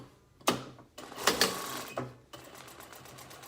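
Sewing machine stitching a pleated fabric face mask with buckram: short mechanical bursts of needle clatter with pauses between, fairly quiet and close, then a steadier low whir at the end.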